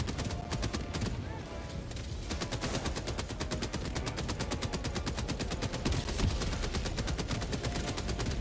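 A sentry turret in Helldivers 2 firing rapid, sustained bursts, a loud rattling stream of shots that briefly pauses and then resumes with dense automatic fire.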